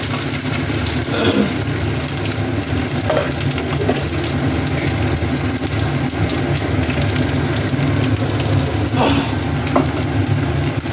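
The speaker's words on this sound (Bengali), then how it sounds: "দেখুন নারকোলটা লাল লাল করে ভাজা হচ্ছে" Grated coconut frying in a pan gives a continuous, moderate sizzle with faint stirring scrapes, steady throughout and close by.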